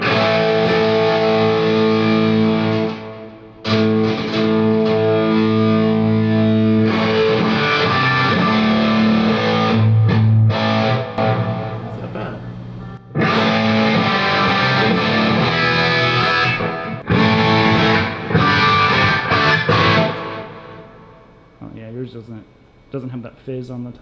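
A distorted electric guitar plays through a vintage Marshall amp and cab, with thick sustained chords and riffs in long bursts separated by brief pauses. The tone is loud and saturated, with some fading notes at the end.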